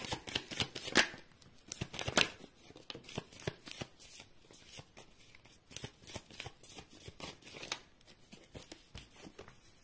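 Tarot cards shuffled by hand, a close, crisp stream of riffling flutters and soft slaps repeating in irregular bursts at a modest level, with no talking.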